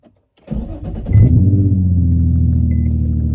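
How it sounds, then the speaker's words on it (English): A Nissan 350Z cranks and fires up for the first time in months, a brief starter whir followed by the engine catching and settling into a steady, loud, rumbling idle close by, with no talking. "Let's see if this key going through the washer will still start the car."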